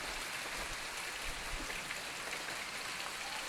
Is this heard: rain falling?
yes